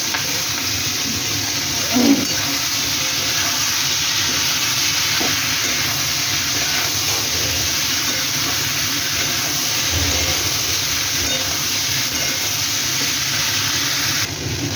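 Mixed vegetables with green chillies fry in a pan for a bitter gourd curry, giving a steady, soft sizzling hiss throughout with a brief utensil clink early on and no talking.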